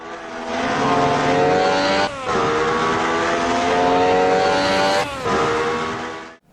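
An Alfa Romeo 155 Ti V6 race car in Assetto Corsa revs loudly at Imola, its V6 engine screaming up through the gears with two brief dips at gear changes, close and dominant with no talk.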